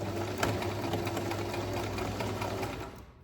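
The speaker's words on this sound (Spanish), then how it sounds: "Ahí en el hombro le damos un atraque con la palanquita de reversa de la máquina y vamos cosiendo" A domestic sewing machine runs continuously, stitching the shoulder seam of a cotton T-shirt with a short back-tack from the reverse lever, a steady close hum and rapid needle chatter that stops abruptly near the end.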